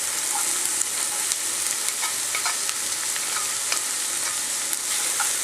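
Onion, ginger, garlic and green chilies sauté in hot oil in a pan for Kerala chicken thoran, giving a dense, continuous sizzle with faint stirring scrapes and no voices.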